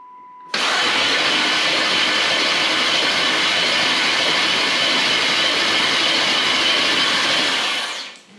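A Camaro engine cranking, then catching and running, with a sudden loud onset becoming a dense, steady, roaring drone that holds for several seconds before cutting off abruptly.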